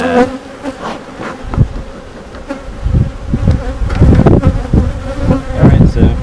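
Honeybees buzz thickly and close around an opened beehive during a routine inspection, a dense, rising drone with bursts of movement and handling noise.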